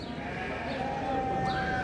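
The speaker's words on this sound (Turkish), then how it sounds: "Hayvan pazarımıza gebe koyunlar gelmiş." Pregnant ewes bleating at a livestock market in Çorum, Turkey, their calls rising and overlapping against a steady crowd murmur with voices talking in the background.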